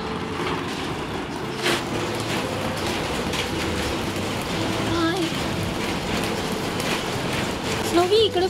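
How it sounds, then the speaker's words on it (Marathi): Steady rain falls outdoors in a broad, even hiss that fills the whole stretch, with a few brief voices and faint sounds on top. "मस्त पावसाची मजा लुटते."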